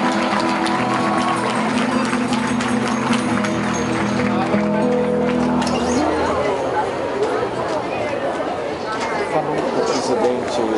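Large outdoor gathering at a religious pilgrimage applauding Dom Valmor, dense sustained clapping mixed with crowd chatter and a fading musical tone, loud and continuous.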